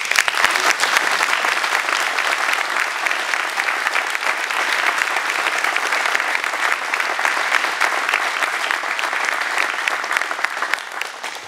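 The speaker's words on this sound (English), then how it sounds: "let's give Chief Riley one more round of applause" A ceremony crowd gives loud, sustained applause for a newly sworn-in fire chief, dense clapping from many hands that stays even and strong from start to finish.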